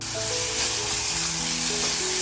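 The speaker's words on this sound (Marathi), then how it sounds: "आता ही वजरी आपल्याला त्या मसाल्यामध्ये टाकून छान अशी फ्राय करून घ्यायची आहे." Mutton vajri (tripe) fries in a spicy village-style masala, making a dense, steady sizzle that fills the short moment, with faint sustained tones in the background and no speech.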